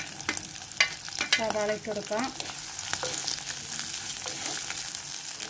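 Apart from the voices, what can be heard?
onion, green chili and curry leaves sautéing in a pan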